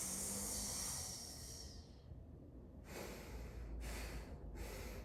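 A long, breathy exhale during a guided breathing exercise, a loud hissing rush that fades out, followed by two shorter airy breaths close to the microphone.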